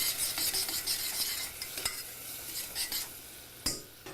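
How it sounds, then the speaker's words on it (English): A spoon stirs scallops with salt and cracked black pepper in a pot, making soft scraping swishes and occasional metal clinks over a faint sizzle, with one sharp tap near the end. "take a little bit of salt, some cracked black pepper, and give it a stir"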